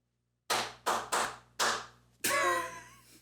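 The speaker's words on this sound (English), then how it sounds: "Just clap different at the different like beats." Several people clap their hands in a loose beat, five sharp claps at uneven spacing, the last one followed by a ringing, resonant tail in a small room.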